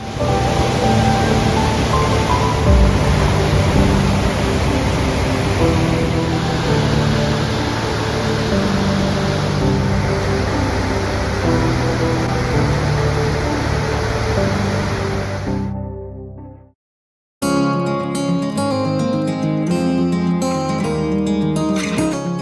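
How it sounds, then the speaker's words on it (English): A powerful Icelandic waterfall roars in a loud, dense, unbroken rush that fills the scene, dropping out briefly before resuming with a slightly different tone. "This is our second waterfall and the last one that we will see today."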